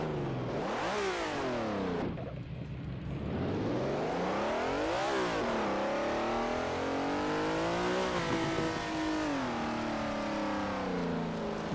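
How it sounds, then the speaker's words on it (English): A Ferrari V12 in a VR racing game revs hard, sweeping up and down through several sharp climbs and drops in pitch, loud and close with no talking. "Now that's extremely aggressive, as you would expect from a V12."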